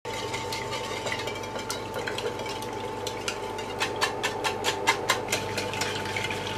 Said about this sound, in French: Au bain-marie, on va mélanger le jus de citron et le sucre. Ensuite, on va rajouter les œufs et mélanger.